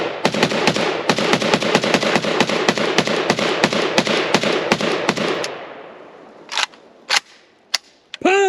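Rapid string of sharp rifle shots from a Romanian Pioneer AK rifle firing cheap junk ammo at an outdoor range, about twenty close, evenly paced cracks, followed by a pause and a few scattered single shots.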